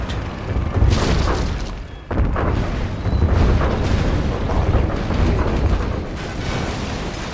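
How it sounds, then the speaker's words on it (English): Scud Storm nuclear missile launch in Command & Conquer Generals Zero Hour: a deep, loud rumbling boom that swells, dips briefly, then roars on as a sustained heavy blast with no speech. "We have launched our nuclear missile. Our Scudstorm has been launched."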